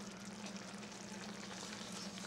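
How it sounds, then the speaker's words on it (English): Tomato paste being stirred into a hot pan while making braciole, giving a steady, even sizzle and frying crackle that runs unbroken throughout with no talking. "Stir that in."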